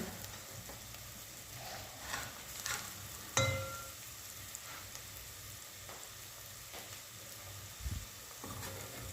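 Onions salted and frying in a pan, a soft continuous sizzle with occasional stirring scrapes and a sharper clack of a utensil, heard close with no speech.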